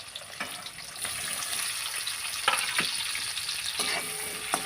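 Chopped onions frying in oil in a pan for a Maharashtrian brinjal curry, a steady close sizzle with a few stirring clicks and scrapes throughout.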